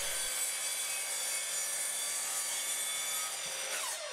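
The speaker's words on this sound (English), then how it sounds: "I just give the base a little trim up." The wooden base of a homemade press is trimmed with a steady, continuous rasping cut that runs evenly for several seconds up close, then stops abruptly.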